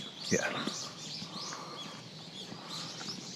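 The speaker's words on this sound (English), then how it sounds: "We can hear a lot of birds." Several birds, including brown-eared bulbuls, call and chirp in an open outdoor space in Kyoto, a sharper cry near the start followed by scattered fainter calls over steady background noise.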